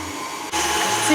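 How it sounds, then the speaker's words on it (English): An electric mixer whirs steadily while whipping a muscovado sugar meringue, a continuous motor drone that briefly dips midway and then resumes at a similar level. "you're going to need to make sure that you let the mixer run so that all those little sugar granules dissolve properly"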